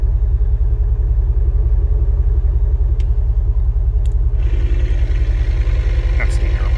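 A car idles through aftermarket Flowmaster FX mufflers with factory tips, giving a steady low rumble that stays loud and even throughout, with no talk over it.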